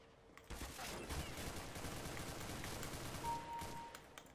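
Sustained gunfire in the CS:GO video game, a dense rapid volley that runs almost the full length at moderate loudness, with faint voice traces mixed in.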